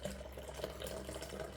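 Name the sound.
water running while rinsing out a cup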